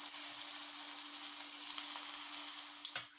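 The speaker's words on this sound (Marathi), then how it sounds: "आपले बॉल्स सगळे तळून झालेले आहेत" Vegetable Manchurian balls deep-frying in hot oil in a kadhai, a soft continuous sizzle with a low steady hum underneath and a few sharper crackles and taps toward the end, no voices.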